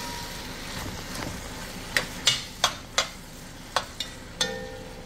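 Garlic cooks in a pot for a beef stew made with chuck roast, a soft low sizzle under a series of sharp scraping and tapping stirs, about seven clustered near the end, no talking.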